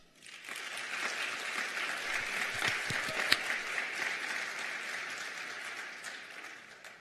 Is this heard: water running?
no